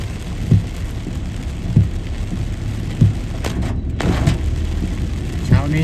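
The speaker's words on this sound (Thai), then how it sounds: "บรรยากาศวันนี้ ฝนตกหนักมาก น้ำขังนะครับ" Heavy morning rain falls in Chiang Mai beside flooded streets, a dense steady hiss with low rumbling thumps recurring every second or so, close and continuous.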